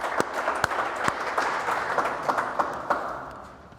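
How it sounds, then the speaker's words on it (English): An audience at a business gathering applauds with a dense, steady patter of many hands clapping, with a few sharper claps standing out before it fades away. "we will applaud Mark because he's here with us"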